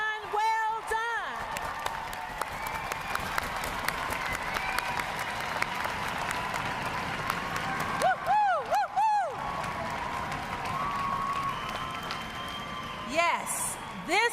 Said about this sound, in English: Let's give these sailors a hearty round of applause.